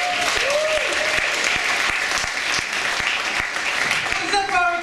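A comedy club audience applauds for a comedian, loud dense clapping that fills the room continuously, with a few whoops and voices mixed in under the steady roar.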